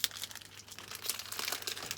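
A bag of chips is crinkled and torn open close up, a steady rustling crackle of plastic with sharper crunchy bursts throughout, no voices.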